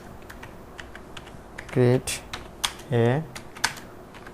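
Close computer keyboard typing, with light rapid key clicks and a press of the enter key, while a person briefly speaks over the keystrokes.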